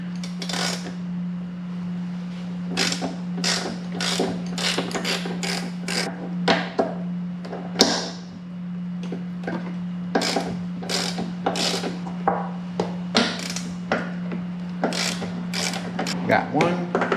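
Hand ratchet loosening the strut bolts on a Mercedes during an upper control arm replacement, giving close, repeated clicking strokes in uneven bursts over a steady low hum.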